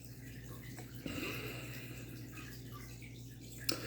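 Water runs from a tap with a soft, steady splashing flow and faint drips, low in level, under a quiet background hum with no talk.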